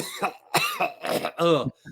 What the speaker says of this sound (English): You'll see me coughing